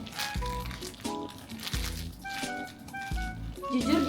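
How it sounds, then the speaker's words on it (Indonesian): A squishy butter toy squeezed inside its plastic wrapping gives repeated crinkling, crackling rustles in bursts, close and fairly loud, with a voice speaking in the background through much of it. "Jujur dimainin di dalam plastik pun dia satisfying ya guys. Karena kayak ada suara-suara krenyes-krenyesnya gitu."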